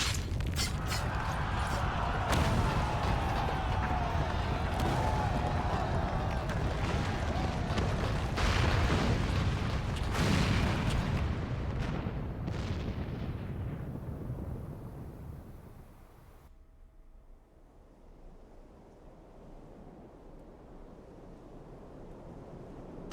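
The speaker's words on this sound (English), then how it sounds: "The main tower just collapsed. You heard it too, didn't you? It must have been the cannon at Castrum," Heavy cannon fire and a collapsing tower in the video game Final Fantasy XIV, a sustained roaring rumble with crashing bursts that fades after about fifteen seconds into a quiet hum.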